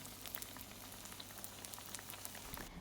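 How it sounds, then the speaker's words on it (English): A faint, steady crackle and sizzle of channa pholourie fritters frying in oil, with soft pops scattered through it. "So I'm adding to the oil while hubby is frying."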